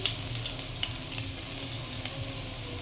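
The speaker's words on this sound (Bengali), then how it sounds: "তেলটা এখানে গরম হয়ে গেছে এখানে প্রথমেই আমি দিয়ে নিচ্ছি এখানে রসুন কুচি" Chopped garlic hits hot mustard oil in a kadai and sends up a continuous, close hissing sizzle that holds steady throughout, with no voices.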